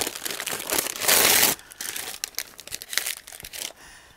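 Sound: unwrapping sublimation wrap from a pressed tumbler

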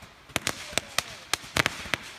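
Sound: fireworks going off

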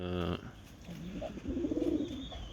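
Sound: pigeons cooing on a terrace

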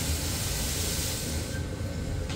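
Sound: steam blowing through steam engine cylinders

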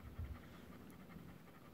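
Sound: dog panting

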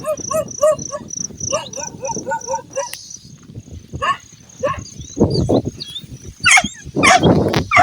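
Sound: dogs barking as they greet people arriving home

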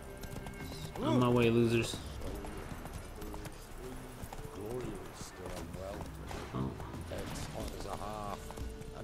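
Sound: horse hooves galloping, The Witcher 3 video game

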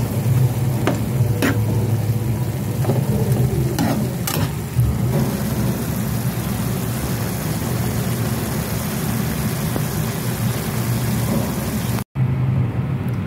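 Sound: stir-frying beef with broccoli

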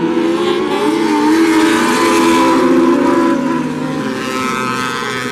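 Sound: mini sprint race cars accelerating at green flag

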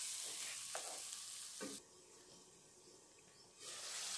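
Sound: stir-frying beef for haleem

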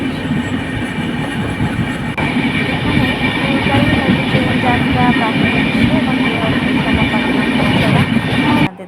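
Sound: passenger train travelling from Secunderabad

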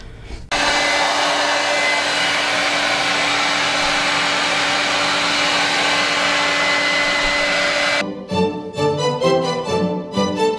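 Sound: hair dryer blowing out hair

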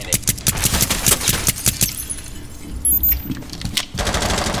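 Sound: sniper rifle shots in the video game Rainbow Six Siege

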